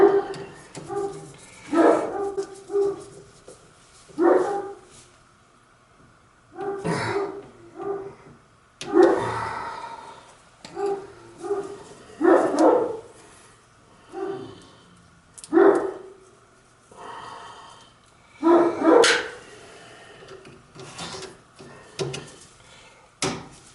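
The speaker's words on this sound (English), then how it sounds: "We don't let that fucking dog down here." A dog around a farmhouse barks over and over in loud, spaced bursts with drawn-out howling tones, each call rising and fading at a steady uneven rhythm, close by and with no other voices.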